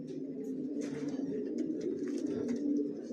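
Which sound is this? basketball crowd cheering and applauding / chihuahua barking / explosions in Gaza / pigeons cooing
pigeons cooing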